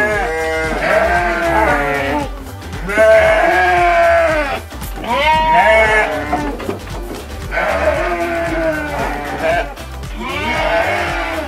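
Garut sheep in a pen bleat loudly and close by, several overlapping, wavering calls following one another almost without pause.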